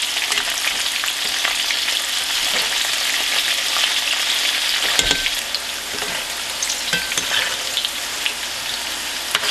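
Breaded okra frying in hot oil in batches, a loud, dense, continuous crackle and sizzle close by, with a brief clunk midway and no talking.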